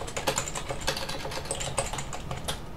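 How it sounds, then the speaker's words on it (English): Rapid, steady clicking of a computer keyboard as someone types text in a terminal editor, close and fairly loud with an even, busy rhythm and no talk. "You can write with the keyboard."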